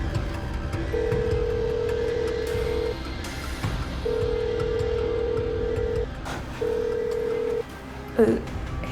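A telephone call is placed with a series of steady ringback tones, three long beeps separated by pauses under a faint background hum.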